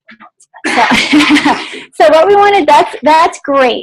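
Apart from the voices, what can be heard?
sneeze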